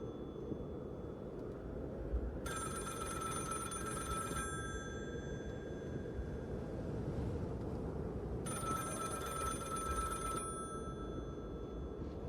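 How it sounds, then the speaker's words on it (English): A telephone rings in the video game The Cabin Factory, two long bright electronic ring bursts of about two seconds each, separated by a pause, over a steady low rumbling background. "Phone ringing."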